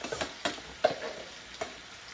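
Ground meat for lasagna sizzles in a pan while a utensil stirs and scrapes it, giving several sharp clacks over a soft, steady fry. The sound is close and moderate in volume, with no talk.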